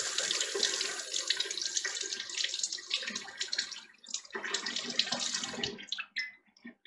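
Tap water runs steadily while an old lime-glassed egg is rinsed, a close splashing stream with small surges that eases off into a few trailing drips.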